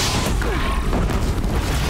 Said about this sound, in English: we're gonna use explosive bombs to try to kill this thing pretty quick